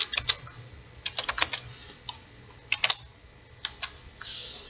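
Computer keyboard typing in irregular bursts of close, crisp key clicks separated by short pauses, a few clustered strokes at a time, no talk.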